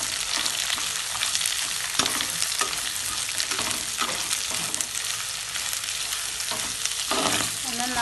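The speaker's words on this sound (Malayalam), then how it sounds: "നന്നായി ഗോൾഡൻ ബ്രൗൺ ആവണ വരെ നമുക്ക് വഴറ്റി കൊടുക്കാം കേട്ടോ." Sliced onions with ginger and garlic sautéing in a pan for a Kerala squid roast, crackling loudly and continuously while being stirred with frequent scraping clatters, close and busy, with no speech.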